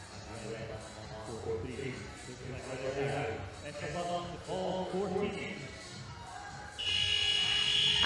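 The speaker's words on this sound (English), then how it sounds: "As the buzzer goes, we're underway." A netball match start buzzer at a World Schools Netball Cup game in an indoor hall sounds loudly and steadily near the end, following a stretch of crowd murmur and a commentator's voice.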